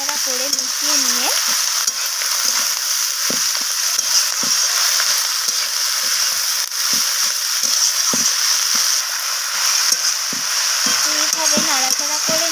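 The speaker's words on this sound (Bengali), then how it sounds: "তো লাল শাকটাকে দিয়ে এইভাবে নাড়াচাড়া করে মিশিয়ে নিয়ে" Chopped red amaranth greens are stirred in a frying pan with a constant bright sizzle and scattered scraping strokes. A faint voice can be heard now and then underneath.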